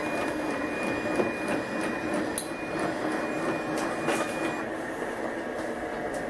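Blue Sky 1501 embroidery machine cycling during oiling maintenance, a steady mechanical whir and hum with faint rhythmic clicks, continuous and moderately loud.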